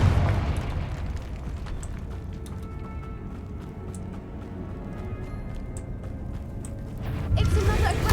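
A Confringo fire spell explodes in Hogwarts Legacy, a loud rumbling boom that swells at the start and again near the end over a dense bed of game noise and chatter.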